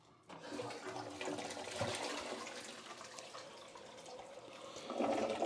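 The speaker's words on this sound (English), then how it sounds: "and then I'm going to go ahead and flush this." A regular household toilet flushing after being scrubbed with a toilet brush, a sudden rush of water that swirls steadily and swells louder near the end, close by with no talking.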